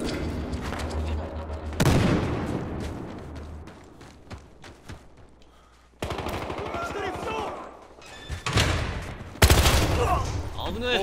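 Heavy gunfire in a Battlefield Hardline match, with loud bursts and repeated shots that cut in and out across the scene. Booming impacts and a player's voice come between the firing.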